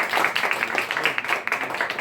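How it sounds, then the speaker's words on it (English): A small team gives a round of applause in a meeting room, a brief patter of hands clapping close by with a steady, lively rhythm that thins out slightly near the end. "Why don't we have a round of applause for both of you guys?"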